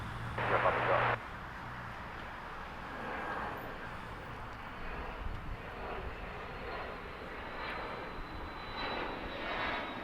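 An airliner takes off from runway 25 left at LAX, a broad steady engine roar carrying across the airfield under a radio voice and a busy background.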